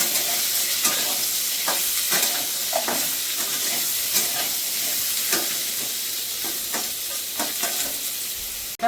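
Potatoes sizzle steadily in a hot pan, with scattered scraping and stirring knocks over a continuous frying hiss, no voices.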